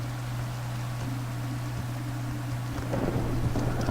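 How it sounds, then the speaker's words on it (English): A steady wash of rain and rumbling thunder from a stormy scene in a tornado survival video game, with high wind, a constant low hum underneath and the downpour swelling slightly toward the end. "Oh wait, that's just high wind and thunderstorm."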